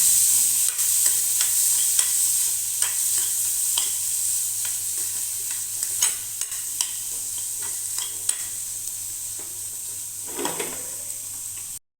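Boiled chana dal being stirred in a pan for Punjabi-style aloo tikki chaat, with steady scraping strokes and soft clinks over a constant low sizzle, close and fairly loud throughout, with no talking.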